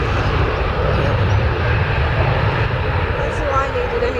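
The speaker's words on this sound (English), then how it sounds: "Anyway, the takeoff roll." A 29-year-old Boeing 737-300 makes its takeoff roll, its jet engines producing a loud, steady low roar with a broad rushing wash, continuous throughout and heard from nearby.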